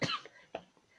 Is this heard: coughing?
yes